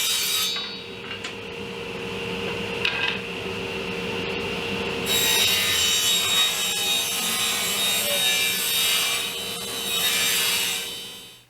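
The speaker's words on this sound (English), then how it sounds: "I'm cutting these strips at 2 inches thick or wide" A hand saw cuts pine wood strips about 2 inches wide in a steady rasping back-and-forth rhythm, close and continuous with no talking.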